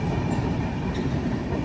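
The Jamnagar–Tirunelveli Express rolls through Roha railway station, a loud, steady low rumble of wheels and carriages with a faint rattle, heard up close and continuous.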